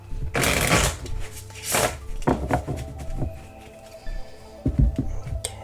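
Several quick bursts of tarot cards being riffled and shuffled up close, followed by softer taps and slaps as the deck is squared and cards are set down.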